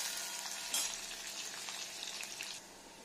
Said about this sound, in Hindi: एक छोटा प्याज लिया है। इसको हम लाल होने तक भूनेंगे।